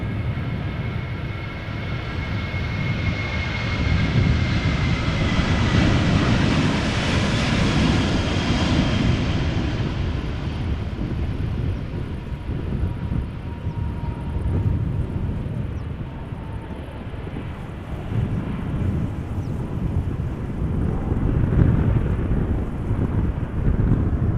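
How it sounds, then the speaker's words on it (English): A KLM jet airliner taking off from Amsterdam Schiphol bound for Edinburgh, its engine roar building to a loud, broad rumble, then easing as it climbs away, with wind buffeting the microphone. "And this is KLM flight 1289 going to Edinburgh."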